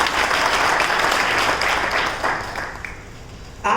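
An audience at a talk show gives loud, sustained applause that fades over its last second. A voice breaks in sharply at the very end.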